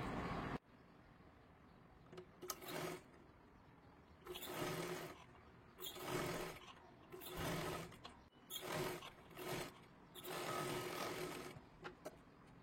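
Sewing machine stitching along the fabric edge of a blouse strip, running in several short bursts separated by quiet gaps; close and clear.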